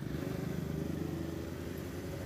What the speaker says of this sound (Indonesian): Oke, Yorki, kamu membawa saya ke jalan-jalan yang macet ini.